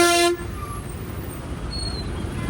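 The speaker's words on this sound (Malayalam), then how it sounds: "നല്ല രീതിയിലാണ് ഇവർ ഹോണടിക്കുന്നത്" A bus horn gives one short, loud blast at a busy, dusty bus stand, then cuts off into steady traffic and engine noise.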